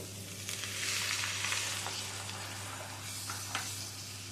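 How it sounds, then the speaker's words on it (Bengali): Water poured into fried spice masala for a thin cauliflower curry sets off a broad, close hissing sizzle that swells early and then eases, with a few small clinks and a low steady hum beneath. "এবারে এর মধ্যে দিয়ে দেব জল"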